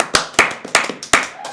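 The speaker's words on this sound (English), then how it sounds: "Can we get a round of applause for Patrick?" A few people clapping at a high school show, five sharp separate claps in an uneven rhythm, close and loud with brief gaps between them.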